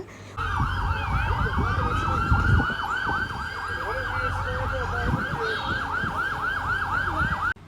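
A wailing police siren cycles rapidly up and down, loud and sustained over road traffic rumble for several seconds, in Canada.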